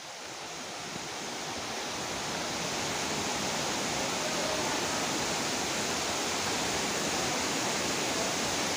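A loud, steady roar of falling water at Vera Falls in Malinao, Albay, swells up and holds, a dense hiss that drowns out everything else, heard up close.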